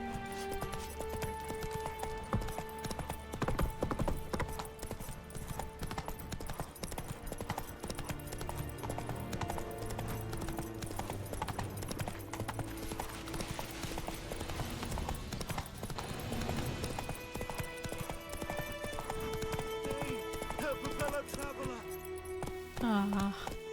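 Horse hooves clip-clop steadily in The Witcher 3, a continuous rhythmic trot under game music and ambient sound, with someone speaking over it at times.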